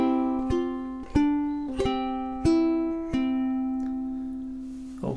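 Ukulele plays bar 4 of a melodic triplet-strum etude, open strings picked with thumb and index: clear plucked notes in a steady rhythm, about six attacks ringing into each other, close and alone with no talk.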